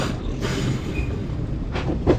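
A passenger train runs toward Purulia on a cold morning, its steady loud rumble and rattle heard from inside the carriage, with faint wheel clatter and no talking.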